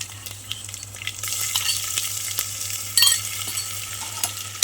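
Ginger-garlic paste with cumin and spices fries in a new pressure cooker pot while being stirred, a constant close sizzle with scraping and clinks of the spoon, brief louder bursts, no talking.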